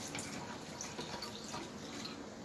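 Water trickles into a flour dough mixture, a faint, steady splashing pour with light irregular drips throughout.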